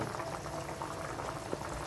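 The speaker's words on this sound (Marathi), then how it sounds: "बटाटे पण कसे त्याच्यामध्ये उकळत आहे" Potatoes simmer in a spicy curry gravy, making a continuous soft bubbling and burbling that stays faint and even throughout the short stretch.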